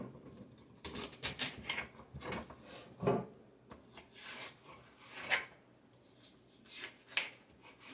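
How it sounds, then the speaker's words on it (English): A knife chops two stalks of celery on a cutting board for chicken dumpling soup, giving a quiet, irregular run of crisp taps and scrapes with short pauses between cuts. "I'm going to cut up 2 stalks of celery"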